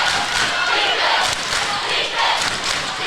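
The Sikeston crowd at a Class 5 district high school basketball game against Cape Central lets out a loud, sustained roar urging on the defense, with occasional dull thuds underneath.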